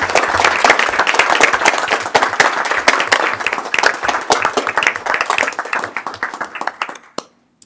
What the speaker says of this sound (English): Let's give all of our semifinalists as well as our commended students another round of applause